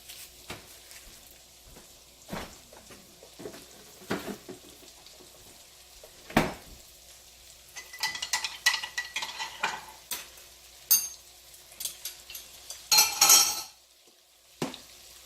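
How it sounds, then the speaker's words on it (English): Chicken fries in Kerrygold grass-fed Irish butter in a pan, a steady low sizzle beneath repeated sharp clinks and scrapes of a utensil against the pan, with a brighter hissing burst near the end. "let that fry a little bit"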